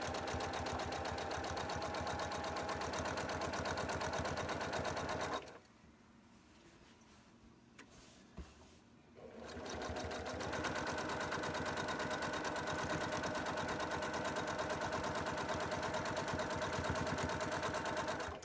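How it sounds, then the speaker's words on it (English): A sewing machine runs slowly down the side of a piece of fabric with a steady, even mechanical drone. It stops for about four seconds in the middle, then starts again and runs on without a break. "Put my presser foot back down, and I'm going to work my way slowly down the side."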